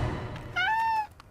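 A cat meows once in a drawn-out, rising-then-falling cry within a TV commercial, loud and close, with a brief low thump and faint background noise around it.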